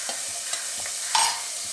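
A large chopped onion is stirred into spiced oil for a chicken gravy, with a steady sizzle under repeated scraping stirs and one brief louder hiss near the end.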